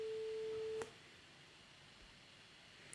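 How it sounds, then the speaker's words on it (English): A single steady electronic tone generated by code in the Swan's Quest programming game, sounding clearly for just under a second before cutting off, leaving quiet background hiss. "it actually played the tone immediately"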